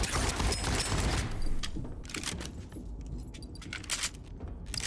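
Starsiege Deadzone gunfire set against the game's ambient atmosphere: a busy, rattling mix early on, then scattered sharp bursts and clicks over a low, steady background hum.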